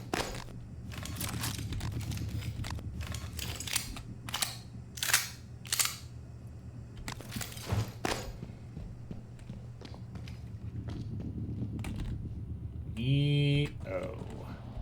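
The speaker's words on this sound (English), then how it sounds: "I've got a fully upgraded silenced pistol." Silenced pistol shots in the video game Prey come as sharp, muffled pops scattered irregularly over steady background hum, with a few spaced clusters and a brief tonal game sound near the end.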